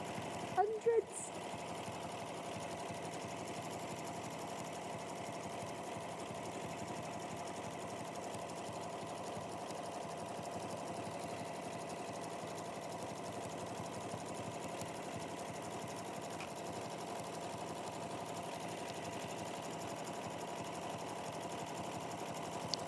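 Sewing machine stitching around the raw edges of a fabric wing, running as a steady continuous whir for the whole stretch with a brief clatter at the start and no talking.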